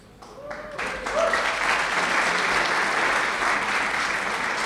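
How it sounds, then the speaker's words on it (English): Audience applause for Vermont Digger, the independent nonprofit news outlet, at an evening honoring Anne Galloway: a dense, steady wash of many hands clapping that swells in within the first second and holds loud and even to the end. "Applaud Vermont Digger"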